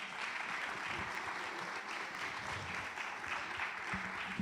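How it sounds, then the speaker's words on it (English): Sustained applause from a conference audience thanking the panelists after a panel discussion on waste and the circular economy in Africa, an even wash of many hands with faint voices underneath. "give yourself a round of applause because you've been a very good audience"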